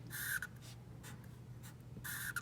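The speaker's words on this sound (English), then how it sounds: "I did my horizon line in pencil" Pencil strokes on paper while sketching a horizon line, close and quiet, with scratchy swipes at the start and end and lighter strokes in between over a faint steady hum.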